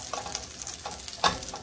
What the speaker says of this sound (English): we are going to quickly brown the chorizo